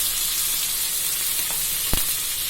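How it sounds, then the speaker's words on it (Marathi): Spices and chillies sautéing in a pan until reddish for an instant sabudana usal, giving a steady, soft sizzling hiss with a single brief clink of a utensil near the end. "हे छान लाल होईपर्यंत परतून घ्या"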